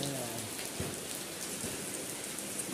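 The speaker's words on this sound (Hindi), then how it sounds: "बारिश तो और तेज़ होने लग गई है यहाँ पे" Heavy rain pours onto a narrow residential street, a dense continuous hiss of drops striking the ground and surfaces. It stays steady and close, with a faint low voice briefly underneath.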